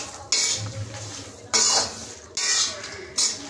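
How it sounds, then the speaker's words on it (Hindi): A utensil scrapes green chickpeas roasting in a pan in four rhythmic bursts of stirring, each a bright scraping rattle over a faint background sizzle, close up with no speech. "तो इसको ऐसे चलाते रहिएगा"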